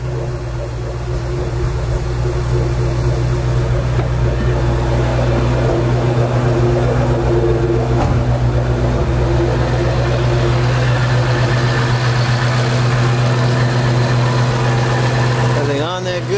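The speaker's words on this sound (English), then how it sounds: "First startup with the JLT cold air intake." Ford Shelby GT500 engine with a JLT cold air intake, idling loud and steady just after startup, a deep constant rumble with a faint whine that holds throughout, with voices heard over it.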